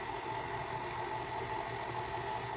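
A stand mixer whirs steadily at a low stir speed while mixing cheesecake batter with granulated white sugar and brown sugar, a continuous even motor hum with no talking.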